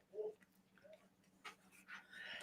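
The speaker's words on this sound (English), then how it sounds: "You're a big, brave doggy." A pet dog pants in short, uneven bursts of breath, close to the ground, with small whimpering tones mixed in, in a quiet home on Halloween morning.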